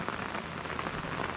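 Rain falling steadily in a stream canyon during a fishing trip, a soft, even patter close by with no voices.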